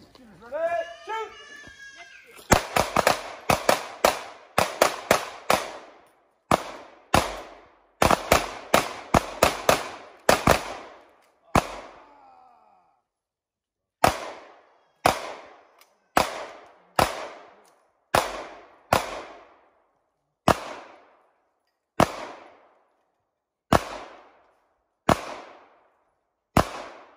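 Handgun shots crack in sharp, separate reports at an outdoor shooting competition during mountain games, a quick cluster at first then evenly spaced single shots ringing out over nearly half a minute, after a shouted start command.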